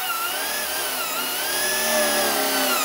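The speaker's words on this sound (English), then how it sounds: "we're gonna drill a hole in the motor mount through the flange" A power drill bores a hole through the flange of an aluminum motor mount for an RC towel airplane, giving a loud, steady, wavering whine that carries on alone for a few seconds.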